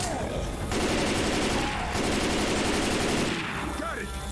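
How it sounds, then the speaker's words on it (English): Rapid automatic gunfire in Left 4 Dead 2 blasts continuously at a Tank, loud sustained bursts with brief gaps and a voice talking faintly underneath. "Shoot the tank!"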